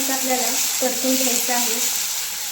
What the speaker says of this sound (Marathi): त्यामध्ये तेल घातलं आहे आणि वरून जिरे घालूया